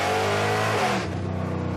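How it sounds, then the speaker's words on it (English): A loud muscle truck engine revs hard and then settles into a deep, throbbing exhaust burble, close by with no talk. "this thing is famous for its wicked exhaust note."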